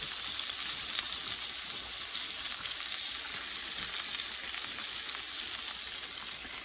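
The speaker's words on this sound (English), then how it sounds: "And we're going to fry this on medium to high heat on each side for 3 minutes." Chicken for chicken marsala sizzles and crackles steadily in a hot pan over medium to high heat, a constant bright frying hiss with no voices.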